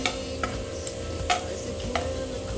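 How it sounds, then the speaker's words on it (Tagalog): Onion and garlic sautéing in a pan, a soft, moderately quiet sizzle with a few light ticks and taps from stirring. "igisa lang natin sa sibuyas at saka bawang"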